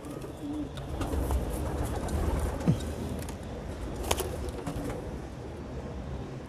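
Soft pigeon coos sound now and then beneath a steady, noisy background rumble, with a brief rustle near the end; the pigeons are bloodied after a rat attack.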